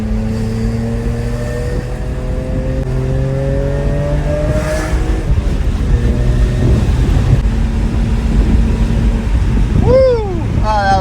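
A BMW E46 M3 engine pulls steadily through the gears on a drive with the windows down, its drone rising in pitch, then falling back at each shift. Wind noise runs throughout, and a sharp rev flare comes near the end.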